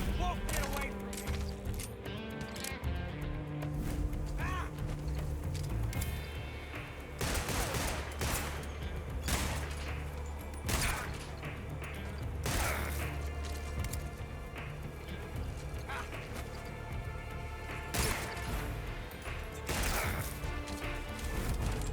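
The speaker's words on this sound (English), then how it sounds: "Why's he shooting me?" Repeated bursts of gunfire in the video game Metal Gear Solid Delta: Snake Eater, sharp loud shots and short volleys spaced across a tense stretch, with game sounds and some voices in between.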